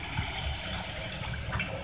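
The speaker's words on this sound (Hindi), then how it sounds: "आप देख सकते हैं ये फ्राई हो रहे हैं और कलर भी आप देख सकते हैं" Gulgule, sweet fritters, frying in hot oil, giving a soft, steady bubbling sizzle, close and faint, with no talking.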